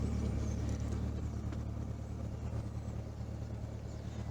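2020 Chevrolet Corvette C8 with a 6.2 liter V8 running behind the cabin, heard from inside as a low, steady rumbling drone, faint and muffled, with no talking.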